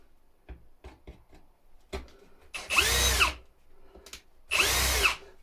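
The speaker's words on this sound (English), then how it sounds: "some of them will come off easily with the drill." A power drill backs screws out of scrap material in two short, loud whirring bursts, each lasting under a second, with scattered light clicks and taps around them.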